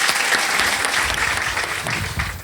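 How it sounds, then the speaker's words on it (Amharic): A church congregation applauding together, dense steady clapping from a crowd in a hall, loud and sustained throughout. "አጨብጭቡ ጉባኤ ለጌታ ክብር።"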